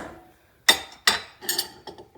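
A spoon clinks and knocks against a pot while macaroni noodles are stirred in boiling water for mac and cheese: a few sharp, close taps spaced out, then a quicker cluster of softer clinks, with no talking.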